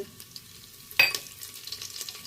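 Whole spices such as red chilli, star anise, cinnamon, cloves, bay leaf and curry leaves sizzling in hot oil for tempering a veg khichdi, a faint crackle with one sharp burst as ingredients hit the pan.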